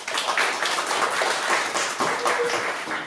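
Theater audience clapping and applauding steadily for about three seconds, a dense wash of many hands filling the hall with no talking.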